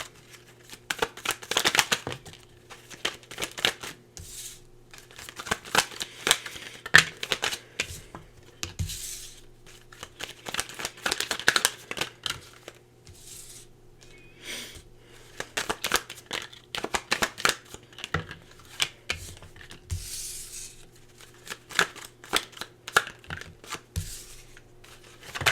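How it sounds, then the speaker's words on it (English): Tarot cards shuffled by hand in a steady run of crisp riffles and flutters, close and fairly loud, pausing briefly between bursts with no voices over them. "let me just pull some tarot cards here"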